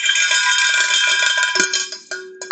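A bell rings out at the start of a home cooking class in a kitchen, a bright metallic clang with sustained ringing overtones that decays, followed by a couple of shorter strikes near the end, loud and alone.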